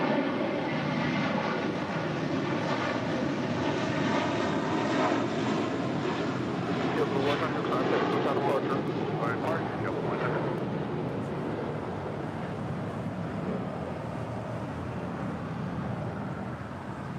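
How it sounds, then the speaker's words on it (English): American Airlines Airbus A321neo jet arriving from Chicago O'Hare, a loud, steady engine roar that holds for the whole stretch and eases slightly toward the end. "His flight coming in from Chicago O'Hare. American Airlines flight 2743 in this A321neo."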